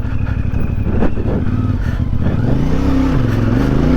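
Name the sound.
CFMoto 450MT motorcycle engine while riding, onboard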